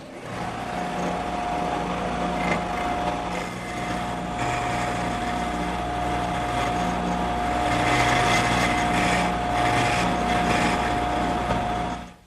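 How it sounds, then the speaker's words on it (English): A router fitted with a triangular cutter shaping details in wood for a harvest table, a loud, steady high-pitched whine with a constant tone and broadband rushing noise throughout, swelling slightly near the end. "I've installed a triangular cutter, and I'm going to use that to cut the details first."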